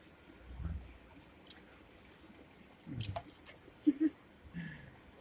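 Short wet squirts and squishy drips from a guzzler pump spraying water into a sandy cliff crevice while prospecting for gold, scattered quiet bursts with pauses between them.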